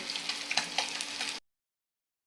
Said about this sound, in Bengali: মাছটা সুন্দর করে ভাজা করে নেব